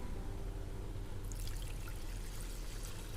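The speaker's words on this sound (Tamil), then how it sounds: "2 கப் தண்ணி ஊற்றிக்கோங்க." Two cups of water poured into golden-toasted vermicelli in a pan for semiya kesari, a soft, faint trickling splash that starts about a second in and continues steadily, with no talking.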